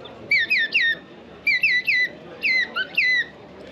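A whistle imitates a common greenshank's call: three bursts of ringing notes, each a quick series of three, loud and close with short gaps, at a hunting and fishing fair in Sologne, France.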